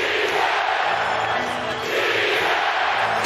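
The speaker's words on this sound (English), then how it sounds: "Listen to this crowd." A packed basketball arena crowd roars steadily after a step-back three-pointer in an NBA playoff game between the Dallas Mavericks and Utah Jazz, loud and sustained throughout.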